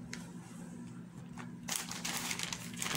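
A zippered plastic bag that held a blouse is handled close up, with soft scattered crinkles at first, then a burst of louder crackling plastic in the second half.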